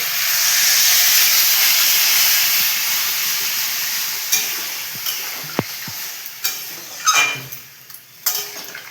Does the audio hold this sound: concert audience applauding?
no